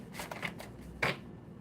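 A quiet riffle of tarot cards being shuffled, a few soft flutters followed by a sharper snap as the deck comes together, close by with no talking.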